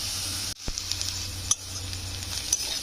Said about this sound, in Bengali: পেঁয়াজটা কিন্তু খুব হালকা করে ভাজতে হবে